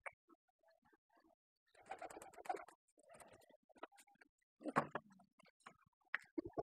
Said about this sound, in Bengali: এই ডিম দিতে বসছে